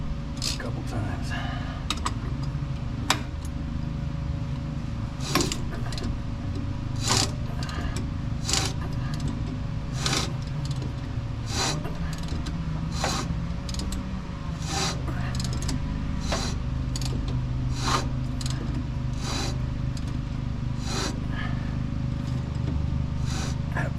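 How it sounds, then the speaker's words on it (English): A ratchet works at the seized engine of a 1969 Ford F250, giving a steady run of sharp metallic clicks and knocks over a continuous low rumble, close by, while people talk now and then. "Okay, let me switch out to a ratchet."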